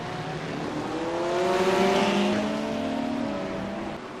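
A race car at a wet Montreal circuit in the iRacing video game, engine revving up and down through gear changes with rising and falling pitch, steady and fairly loud throughout without talk.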